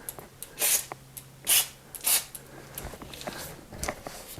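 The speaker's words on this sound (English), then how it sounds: "You just spray One Step on your derailleur" Three short bursts of aerosol lubricant spray hiss close by onto a bicycle derailleur, separated by brief pauses, followed by soft handling noises.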